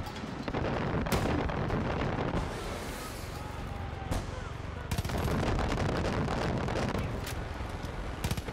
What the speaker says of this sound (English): I want to use the mortar again